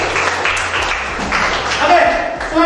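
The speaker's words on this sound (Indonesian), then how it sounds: "Tepuk tangan untuk Ibrahim." Classroom applause for a student named Ibrahim, a steady wash of clapping from a group of students that fills the whole moment, with speech mixed in.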